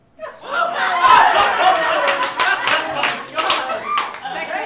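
Comedy-contest audience at the Spitfire Open clapping and laughing together, a loud, dense burst that swells quickly and holds steady, with chuckles and voices mixed through it.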